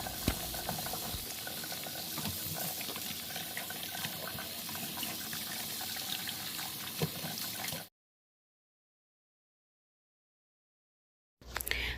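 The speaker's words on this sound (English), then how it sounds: "and then I wash on a running water" Water from a running tap rushes steadily over vegetables being washed in a kitchen sink, a loud, continuous splashing that stops abruptly. After a moment of silence a faint noise returns.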